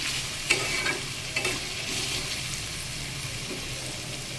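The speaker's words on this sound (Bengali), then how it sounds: "কুমড়োটাকে কিন্তু বেশ ভালোভাবে ভেজে নিচ্ছি" Pumpkin pieces frying in a pan, giving a quiet, steady sizzle with a couple of sharp stirring scrapes early on, close and without talk.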